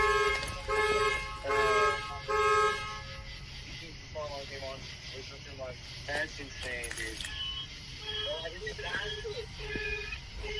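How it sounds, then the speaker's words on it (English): An electronic alarm sounds with repeated tonal beeps and warbling chirps at moderate loudness, while people talk over it. "Was that you that just turned on the alarm?"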